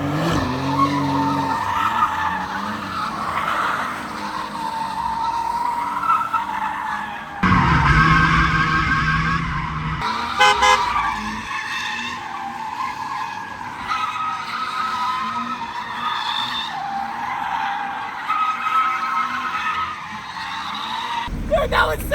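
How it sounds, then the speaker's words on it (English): A sports car drifts in laps around a cone in a skatepark-style setup, tires skidding and squealing almost continuously over a revving engine, loud and close, with voices talking over it. "whoever can maintain the drift for the most amount of laps without having to bail out or hitting anybody"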